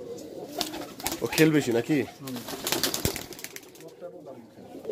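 Domestic pigeons from a large loft flock in Kharkhari, Rajshahi coo in soft, repeated rolling calls over the first half, close by, under and between a man's conversational speech.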